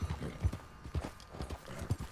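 Horse hooves clip-clopping in Red Dead Redemption 2, a tired horse's steps landing in a loose, uneven rhythm, close and fairly soft.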